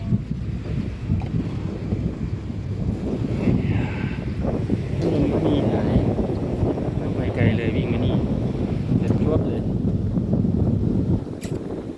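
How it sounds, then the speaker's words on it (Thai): Wind blows outdoors in Phetchaburi, Thailand, buffeting the microphone as a steady, loud rumble for the whole stretch, with people talking under it. "ลมพัดลมก็มี"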